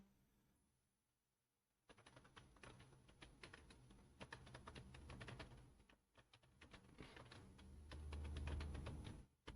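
Close, quiet clatter of a computer keyboard as a name is entered, a brief silence first and then a steady run of rapid key taps with short pauses, no voices.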